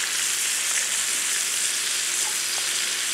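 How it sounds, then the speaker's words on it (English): Bacon fries in a hot skillet with a loud, unbroken sizzle, a dense steady hiss that barely changes from start to end, with no voices. "let me turn my bacon again."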